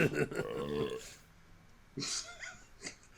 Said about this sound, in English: Don't burp into the mic.